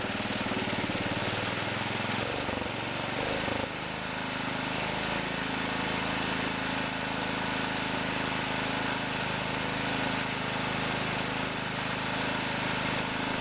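Small Kohler engine running steadily, then picking up speed after a brief stumble, a loud close continuous drone with no talk.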